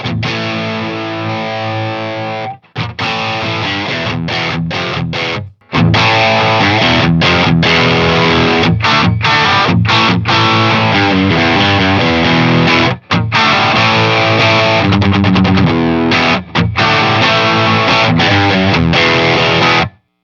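Squier Paranormal Cabronita Telecaster thinline electric guitar played through a Nobles OD overdrive pedal, loud crunchy distorted rock chords and riffs, steady and dense with a few short pauses, no talking.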